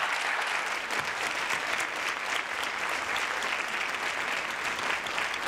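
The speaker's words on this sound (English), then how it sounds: "We applaud you for your courage and your strength." Audience applause fills the room at an event honoring a co-author, a steady, dense wash of clapping hands sustained evenly from start to finish with no voices standing out.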